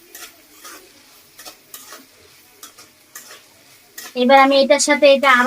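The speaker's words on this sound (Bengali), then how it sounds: "কিছুক্ষণ ভাজাভাজি করবো" Chopped onions, green chilies and deseeded tomatoes frying in a pan for restaurant-style noodles; quiet talk with faint stirring at first, then a loud sizzling hiss bursts in near the end.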